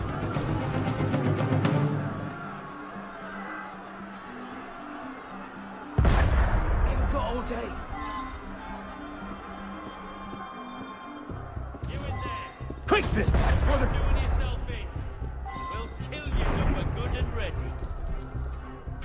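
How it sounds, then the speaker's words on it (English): Cannon fire in the Assassin's Creed Unity video game: two heavy, loud booms several seconds apart, each with a rumbling tail, amid background commotion and voices. "Sometimes opportunity sounds a lot like cannon fire."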